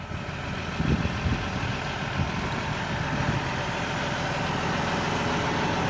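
A tractor's heavy diesel engine idles steadily at close range after dark, a continuous low rumble with a constant drone and no voices.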